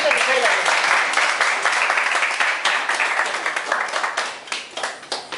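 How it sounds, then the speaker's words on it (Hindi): An indoor audience at a recognition event in Bhopal claps loudly and continuously, the applause gradually thinning into more distinct, separate claps toward the end. "चलो जोरदार तालियां।"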